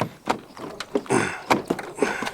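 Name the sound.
pickup truck door slam, rattling panel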